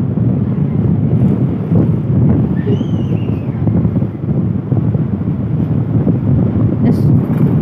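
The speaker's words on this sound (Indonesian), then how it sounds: "Anginnya" Wind buffets the microphone on Pangandaran beach, a loud, constant low rumble and flutter that lasts throughout, close up, with a faint high whistle briefly audible in the background.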